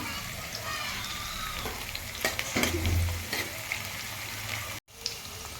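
Eggplant and onions frying in oil in a pan, a steady close sizzle with a few stirring scrapes and clatters over it, briefly cut off near the end.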